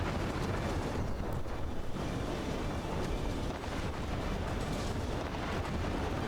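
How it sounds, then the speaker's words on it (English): Cram cannon shells slam into a battleship in the naval combat game From the Depths, a dense continuous rumble of impacts and blasts with roaring, wind-like noise throughout. "Cram shots popping in."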